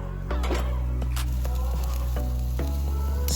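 Food sizzles steadily while frying in a pan, a continuous hiss from start to finish broken by a few faint clicks, with no talk.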